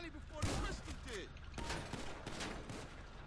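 Gunfire in GTA V sounds as rapid volleys of sharp shots in several bursts, fairly quiet and mixed with game noise, with a voice speaking over part of it.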